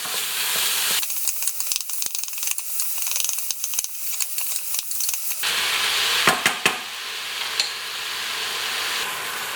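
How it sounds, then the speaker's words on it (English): Minced beef frying in a pressure cooker, a steady sizzle broken by scraping, clicking strokes of a spoon stirring the meat, close and fairly loud with no talk. "we're chucking in 350 grams of good mince. And honestly, it's worth getting the good stuff. And obviously, just get that all mixed in nicely"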